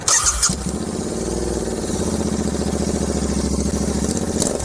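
A Royal Enfield GT650 motorcycle cranks and fires up, then settles into a steady, even, close idle with a regular pulsing beat, with no talk.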